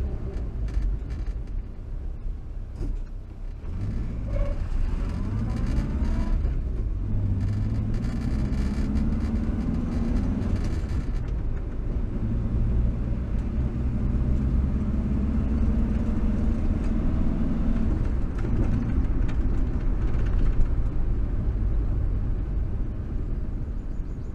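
A 1962 Morris Minor's engine drones steadily from inside the moving car as it accelerates, a low, even rumble that holds for the whole stretch with faint road and cabin noise behind it.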